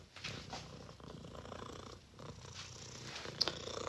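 A cat purrs close to the microphone in a continuous soft rumble, pulsing steadily with each breath and broken by a brief higher sound near the end, with no speech over it.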